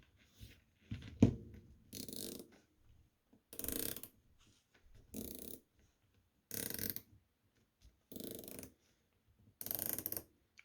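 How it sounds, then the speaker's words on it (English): A dive watch bezel, on Seiko 6105-style homages from Heimdallr and Steeldive, is turned in six separate bursts of fast ratcheting clicks. Each burst lasts about a second and quiet gaps fall between them; the clicks are close and crisp, with no talking. "This is much higher, had more like a ratcheting sound."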